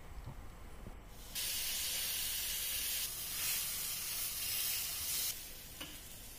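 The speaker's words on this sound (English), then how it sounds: "continue to grill the cheese on the same pan" Cheese grilling on a hot pan, a steady bright sizzle that swells in loudly after a quiet start and fades slightly near the end, close and continuous with no talking.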